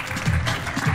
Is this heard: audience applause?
yes